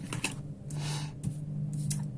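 Tarot cards are shuffled close up in quiet bursts, with soft riffling clicks and slides in irregular bunches and brief pauses between them.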